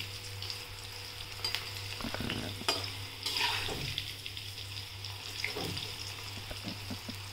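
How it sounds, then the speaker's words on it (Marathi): Cauliflower Manchurian pieces deep frying in oil, a soft continuous bubbling sizzle with occasional clinks and stirring scrapes, fairly quiet and without speech. "सगळ्या साईडने तळून घेऊया"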